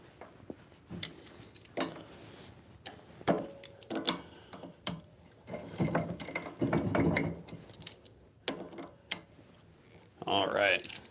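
Skateboard deck press jacks being loaded by hand in a workshop give off irregular mechanical clicks and ratcheting ticks, with a few louder clanks and a burst of activity near the end, mixed with brief talk.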